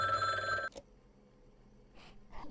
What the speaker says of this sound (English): Makes the phone ring.